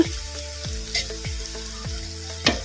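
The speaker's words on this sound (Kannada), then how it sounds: "ಇದನ್ನು ಐ ಫ್ಲೇಮಲ್ಲಿ ಇಟ್ಕೊಂಡು ಒಂದು ಐದು ನಿಮಿಷ ಈ ಥರ ಫ್ರೈ ಮಾಡ್ಕೋಬೇಕು" Bonda batter made with leftover rice fries in hot oil on high flame, a steady crackling sizzle with repeated soft stirring strokes through the oil.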